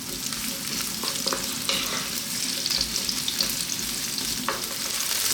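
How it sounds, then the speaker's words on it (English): Sliced onions and garlic fry in a pan for arrabbiata tomato chili sauce, a steady close sizzle with occasional stirring scrapes and clinks running throughout, no voices. "We're going to drop in our sliced onions. We're going to add our garlic."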